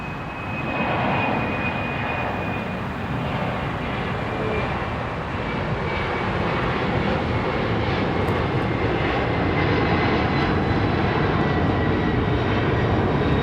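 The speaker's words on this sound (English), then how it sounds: "We got our first freighter for the day." Cargo freighter jet passing at LAX, a loud, sustained engine roar that swells slightly as it goes by, with a thin whine riding above it and no talking.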